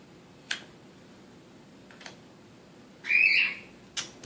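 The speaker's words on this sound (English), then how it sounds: "That's my bird Jem, if you hear her in the background." A pet bird named Jem gives a short, bright chirp partway through, close by in a quiet crafting room. Several sharp clicks come before and after it, and no one talks.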